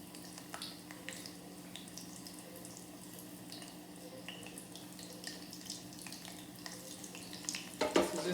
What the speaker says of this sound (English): So just let those fry.